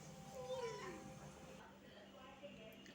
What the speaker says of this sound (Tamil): இங்கே பாருங்கள், எங்கள் பூனை அப்பையிலேருந்து கத்திக்கிட்டே இருக்குது.